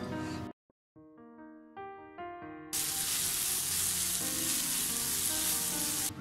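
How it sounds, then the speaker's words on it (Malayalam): A few tonal clinks and knocks, then a loud, steady frying sizzle of a large eggplant being sautéed in a pan, filling the rest of the clip, close and continuous. "എല്ലാം കൂടി ഒന്ന് നന്നായിട്ട് വഴറ്റണം"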